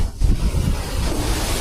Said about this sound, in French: La cascade Venteda est splendide.